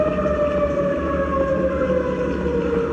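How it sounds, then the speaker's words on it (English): Tornado sirens wail continuously at a distance at night in Mayfield, Kentucky, their pitch sliding slowly over a steady low rumble. "tornado sirens ripping through the darkness."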